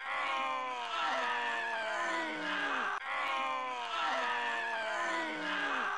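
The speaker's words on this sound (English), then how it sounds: "Do you hear that fucking screaming in the face?" Screaming from the retro first-person shooter Blood on PC, layered wavering cries and groans sliding in pitch, loud and continuous throughout, looping with no pause.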